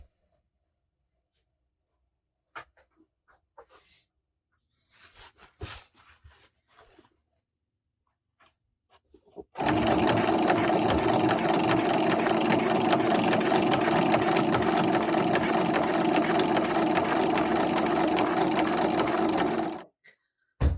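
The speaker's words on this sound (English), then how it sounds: "we're going to stitch in between the 2 pieces of fabric and where the actual stitching is, and that's called stitching in the ditch" A sewing machine quilts stitch-in-the-ditch lines on a bargello fabric table runner. After faint handling noises, it runs loud and close in one continuous, steady whir for about ten seconds, then stops abruptly.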